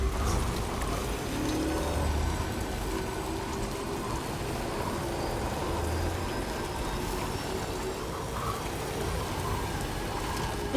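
Steady timefall rain in Death Stranding 2 pours in a constant, even hiss of drops on surfaces, moderately soft and unbroken from start to finish.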